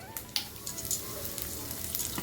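Mustard seeds, curry leaves and asafoetida tempering in hot oil for a brinjal gotsu side dish, giving a steady close crackling sizzle with small pops throughout, no voices.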